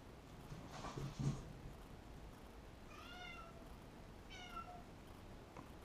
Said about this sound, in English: My cat is freaking out right now.